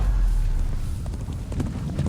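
Horse hooves clip-clopping at a steady walking rhythm in the medieval game Kingdom Come Deliverance 2, close and fairly loud over a low ambient rumble.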